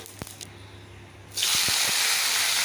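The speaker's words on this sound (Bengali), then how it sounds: "এই তেলের মধ্যেই পাঁচফোড়ন সম্বাস দিয়ে দিলাম।" After a quiet moment and a couple of clicks, a sudden loud hissing sizzle erupts as panch phoron spices hit hot oil, then continues steadily up close.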